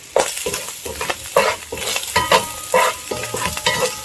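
A spoon scrapes and stirs hot dog fried rice in a pan of coconut oil, rhythmic clanking strokes over a constant close sizzle, with no voices.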